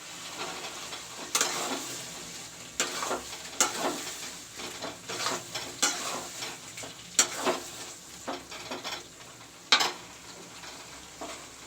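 Potatoes sizzle and fry in a chicken curry pan while being stirred, with a constant hiss broken by repeated scraping stir strokes and clinks at irregular intervals.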